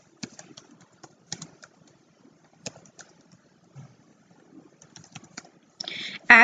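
Keyboard typing while entering data into a software form, sparse light key clicks in short bursts with pauses, fairly quiet, ending in a louder burst.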